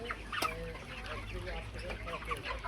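Farm chickens of about two kilograms each cluck and squawk in a steady close-up chorus, with a louder sharp call near the start over a constant low hum.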